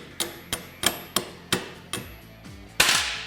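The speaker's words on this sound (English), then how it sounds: "you can just take a 15mm socket and kind of tap it" A 15mm socket struck by a hammer to drive a stuck bushing sleeve out of an A-arm on a Kawasaki Teryx KRX 1000, about eight sharp metallic knocks in a steady rhythm, close and loud, with a heavier final blow.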